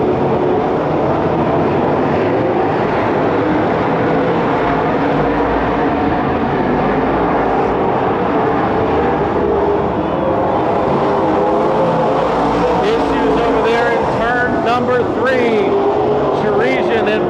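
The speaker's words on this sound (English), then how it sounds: "we look for the car who is loud as it goes by us" A loud super stock race car engine roars steadily close by at Petaluma Speedway, its pitch shifting as the car passes, with a voice talking over the noise.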